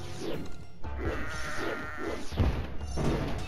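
A summoned sheep bleats repeatedly in the video game Kingdom Rush, several wavering bleats following one another amid game sound effects and impact thuds, close and fairly loud.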